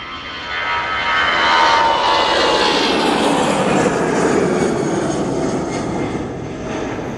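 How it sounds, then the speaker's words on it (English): An EasyJet Airbus A320 jet roars past an airport, its loud engine rumble and whine swelling and then slowly fading as the aircraft moves on, with no voices. "After Belfast, we go on a short hop using the Airbus A320 for EasyJet."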